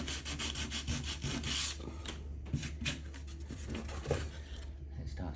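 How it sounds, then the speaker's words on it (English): Stained wood for a tarantula enclosure being lightly sanded by hand, a rapid run of close rasping strokes, loud at first and then easing into softer, uneven rubbing. "I'm just going to lightly sand it."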